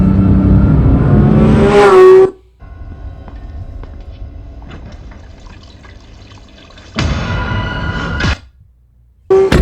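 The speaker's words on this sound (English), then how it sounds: "when you hear that engine" A 2025 Porsche 911 GT3 engine revs hard, a loud rising mechanical howl, then quieter running before a second strong burst of revving near the end.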